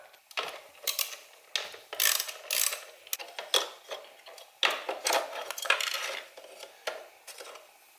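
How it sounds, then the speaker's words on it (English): A ratchet spins out T40 Torx bolts from the steering wheel trim of an Infiniti G37, giving repeated bursts of quick metallic clicking, close and fairly loud, separated by short pauses. "first thing we want to do is remove these two bolts here. They're T40"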